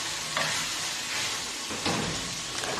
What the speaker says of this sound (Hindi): कीमे को भूनने के बाद उसमें कटी हुई गाजर भी डाल दें और चम्मच बराबर हिलाते जाएं ताकि मसाला नीचे ना लगे